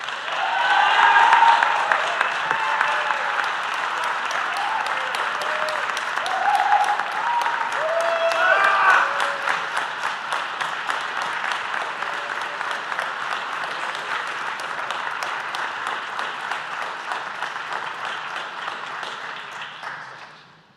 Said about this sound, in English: Can we have another round of applause for Solomon?